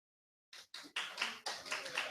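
A few scattered claps from a single audience member at a comedy showcase, starting after a short silence, two separate claps then a quicker burst of clapping, fairly close and clear.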